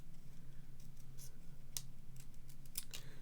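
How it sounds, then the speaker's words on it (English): Scissors make small snipping cuts while fussy cutting paper circles, a few quiet crisp snips spaced apart over a low steady background hum. "I hate cutting circles out,"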